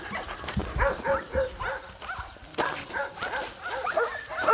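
Several dogs bark and yip at a shelter in a steady, overlapping chorus of repeated barks, fairly close and loud throughout, with no talking.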